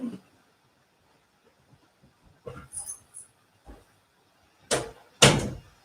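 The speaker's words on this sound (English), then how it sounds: "Let me close this door really quick" Indoor door handled and shut, with scattered clicks and rattles leading to two sharp slams near the end, separated by quiet gaps.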